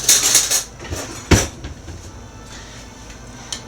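Metal kitchen utensils clink and rattle in a drawer while a spoon is fetched: a cluster of jangles at the start, one sharp clack, then a few soft, scattered clinks.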